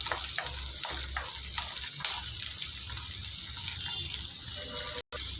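Onions frying in oil in a pan for a village-style cowpea curry, a continuous bright sizzle with stirring scrapes, close and steady throughout, with a brief cut near the end.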